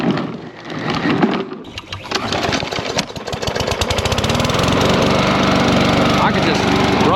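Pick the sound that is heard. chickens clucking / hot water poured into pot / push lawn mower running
push lawn mower running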